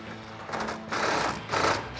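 A 10mm socket ratchet tightens a headlight mounting bolt on a 2019-2021 RAM 1500 pickup, giving three short, close bursts of buzzy clicking.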